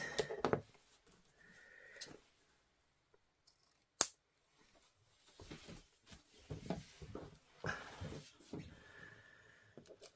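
Scissors cut through a piece of ribbon up close, making a few short, crisp snips spread over several seconds, mixed with faint handling rustle in a quiet room.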